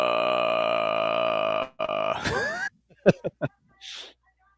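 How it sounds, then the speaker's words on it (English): A deep, gurgling belch from a pond-dwelling kaiju in the Spectreman TV series rumbles out, followed by a few short guttural grunts and a brief breathy hiss. "Sounds like it's burping."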